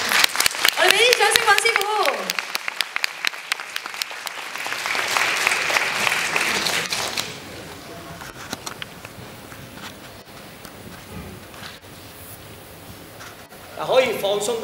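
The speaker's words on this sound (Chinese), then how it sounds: "我哋俾啲掌声，尹师傅。" An audience applauds a martial arts master after a demonstration at a youth leaders' family event in Hong Kong; loud, brisk clapping opens the passage, thins into scattered claps and crowd murmur, then a fresh burst of applause returns at the end.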